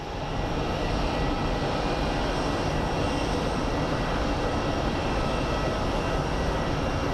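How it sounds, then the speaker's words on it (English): An Airbus A321 airliner from Minneapolis arriving at Phoenix Sky Harbor airport, its jet engines producing a continuous, fairly loud roar that swells slightly at the start and then stays even. "So the Minneapolis A321 is coming in."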